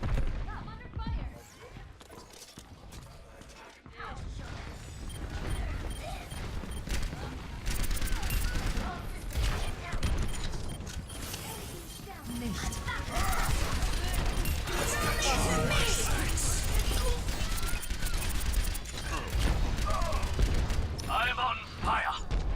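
Gunfire crackles through a video game battle, dense bursts and volleys overlapping with crashes and booms, loud and sustained, while voices talk over the fighting.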